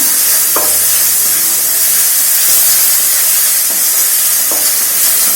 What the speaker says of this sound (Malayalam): മുളകും കൂടെ ചതച്ചത് എണ്ണ ഒഴിച്ച് വതക്കാനിട്ടുണ്ട്.